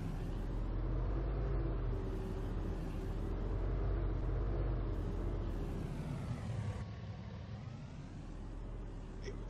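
A car drives through town in Farming Simulator 19, its engine a steady, close low rumble that holds level throughout and dips slightly toward the end, with no talk.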